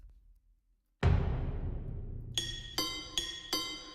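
A low booming hit with a long decaying tail, followed by four bright metallic synth strikes ringing out in a steady rhythm.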